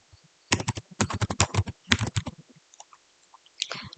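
Keystrokes on a computer keyboard come in quick clustered bursts of clicks with short pauses, close and fairly quiet, with no talking.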